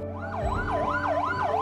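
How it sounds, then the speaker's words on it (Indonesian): Ambulance siren wailing in a rising and falling cycle while stuck in a traffic jam, loud and close over low engine rumble, with no talking. "Saya ngeliat ambulans yang terjebak macet"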